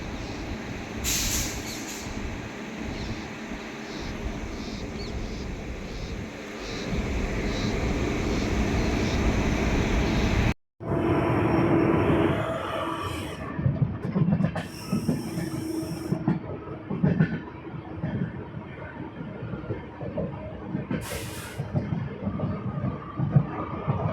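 An Amrit Bharat Express train runs along an Indian railway line, a loud continuous rumble of wheels and carriages with clickety-clack and occasional squealing wheels, a brief dropout midway, then the rolling noise resumes close by with no talking.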